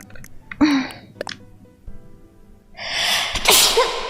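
A single loud, close sneeze from a young woman bursts out near the middle, preceded by a short breathy intake and a small vocal sound, with quiet room tone between.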